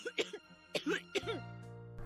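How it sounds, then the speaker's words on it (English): A woman coughs heavily in a video game, three harsh, wet bursts in quick succession followed by a strained vocal groan, close and clear. "As if she heard my thoughts, Becca starts coughing heavily"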